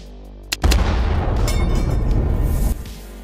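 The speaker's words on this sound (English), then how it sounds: "There you have it, guys, the Alastor Siege Cannon." Alastor Siege Cannon, a large artillery gun from the ArtilleryCraft addon in Minecraft, fires once: a sharp crack opens into a loud, deep, sustained boom that rolls on for about two seconds before cutting off.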